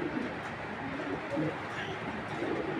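Giribaz pigeons cooing nearby, a continuous low murmur of overlapping coos from a group of birds, fairly loud against a busy background.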